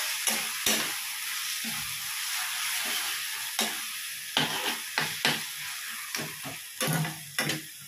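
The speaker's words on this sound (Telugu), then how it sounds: "ఇది గోంగూర. ఇది బాగా వేగిపోతే సరిపోతుంది." Gongura (sorrel) leaves fry in a pan with a steady broadband sizzle while a spoon stirs them, producing intermittent scraping clacks against the metal throughout; close and fairly loud, with no voices.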